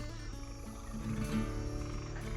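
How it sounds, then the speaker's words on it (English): A chorus of frogs croaks steadily under a droning ambient bed, a soft rasping texture that stays at an even level throughout. "you begin attempting to communicate with the frogs that you hear"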